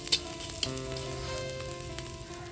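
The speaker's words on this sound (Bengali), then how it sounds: "তারপর পেঁয়াজ কাঁচা লঙ্কাটা একটু দিলে হতো কিন্তু এই কাঁচা লঙ্কাগুলোতে ভীষণ ঝাল তাই আমি তিনখানাই দিলাম তো চলো এটা ভেজে নিই" Onion, black cumin and green chillies fry in a pan with a steady, close sizzle, broken by a few light clicks and a faint background hum, with no speech.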